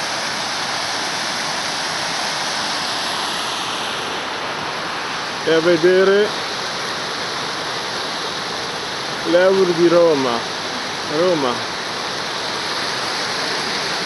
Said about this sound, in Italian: lì le cascate, l'acqua scende e forma altre cascatelle